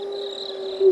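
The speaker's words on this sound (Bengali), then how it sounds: "মাঝে মাঝে প্যাঁচার আওয়াজ" An owl hoots at night, a single steady tonal call held for about a second, clear and moderately loud against a quiet background.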